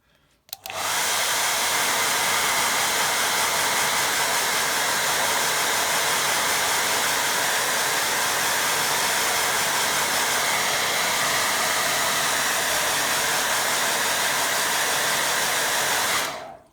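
A hair dryer blows on a freshly painted picture of a small boat, starting abruptly and holding a loud, steady rushing whoosh close to the mic for about sixteen seconds before cutting off.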